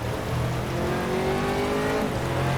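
Aston Martin GT3 race car in the rFactor sim racing game at Sepang, engine droning steadily loud with a rising then falling pitch as it shifts through gears, no talk over it.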